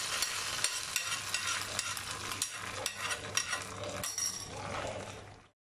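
Sizzling tempering being stirred into ven pongal in a pot, a steady frying hiss with scattered spoon scrapes and clinks, close and moderately quiet, ending abruptly.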